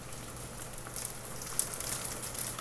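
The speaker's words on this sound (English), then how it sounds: "Wow, we're getting really good hail outside right now." Hail falls steadily outside during a spring hailstorm, a dense, even patter of ice hitting surfaces with a few sharper clicks, heard from indoors without talk.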